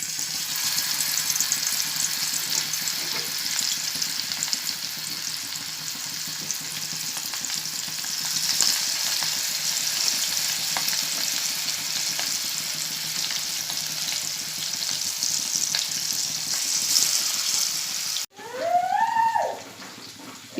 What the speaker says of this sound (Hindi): ये देखिए, मछली तलकर हो गई है